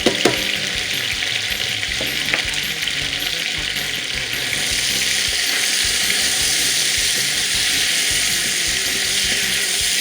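Sliced onions frying in a hot pan over high heat, a loud steady sizzle that swells stronger after a few seconds, with a couple of faint clinks early on and no voices.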